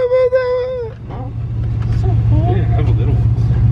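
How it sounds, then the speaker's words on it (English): A car engine runs at a steady low idle rumble just after a cold start, close and continuous, while a voice makes drawn-out, wavering vocal sounds over it. "Get a little cold start on this one."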